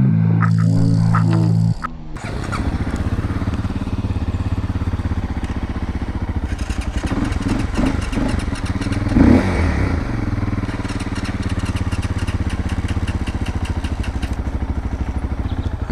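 A Honda motorcycle being ridden, its engine droning loud and steady at close range for the whole stretch, with wind and road rumble and a brief burst of other noise at the start.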